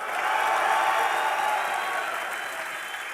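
Crowd at a DreamHack Winter 2012 esports semifinal cheering and clapping in a short, fairly loud burst that fades slightly toward the end.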